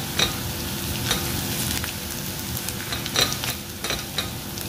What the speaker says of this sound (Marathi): तेलामध्ये छान परतून घेतला ते कांदा